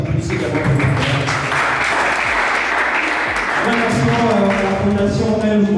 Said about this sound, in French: S'il vous plaît, applaudissez, applaudissez.